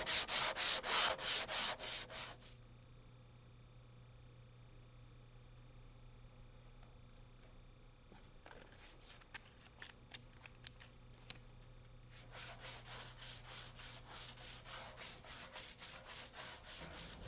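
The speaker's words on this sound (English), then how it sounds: "Use sandpaper wrapped around a block of wood for even sanding." Rhythmic rubbing strokes of sandpaper wrapped around a block on wood, during Rotorway Exec 162F helicopter construction: a burst at the start, a quiet stretch with faint ticks, then steady sanding resumes.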